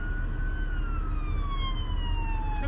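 A police car siren on a highway detour near a forest fire on the way to Alberta wails with steady falling tones, loud and continuous over constant road and engine rumble.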